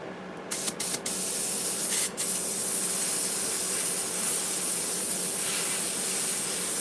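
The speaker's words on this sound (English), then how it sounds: "Let's do a little bit of spray on here and kind of highlight it up a little bit." A compressor-powered paint sprayer hisses in a steady, continuous stream close up, broken by a few brief clicks and gaps near the start before running evenly.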